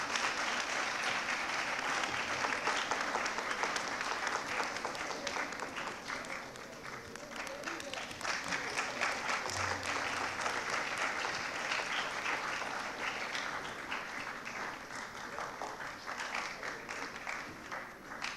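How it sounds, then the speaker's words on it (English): Sustained applause from a large audience at a school Founders' Day assembly debate, dense and steady clapping that carries on for the whole stretch, slowly easing toward the end. "Please give a big round of applause to them, please."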